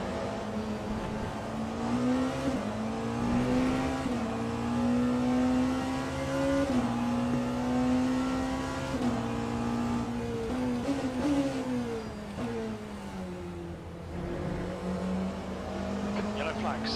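A steady engine drone from GTP race cars, including a Porsche, pitch rising and falling as they run at Bahrain in the game Le Mans Ultimate, with people talking over it.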